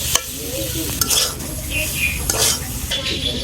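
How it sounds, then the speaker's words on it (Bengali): Spices and vegetables stir-fried together in a pan, a sizzling hiss broken by scraping and clinking of a spoon against metal, close and lively in irregular strokes. "মশলা আর সবজি একসাথে কষানো হয়ে গেছে"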